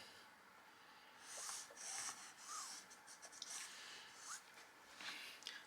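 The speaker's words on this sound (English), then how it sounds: "And then I'm going to draw my line between the two." Pen or pencil drawing a line across a Simplicity 8941 commercial paper sewing pattern while grading it up to plus sizes: faint, close scratchy strokes in short bursts against a quiet room.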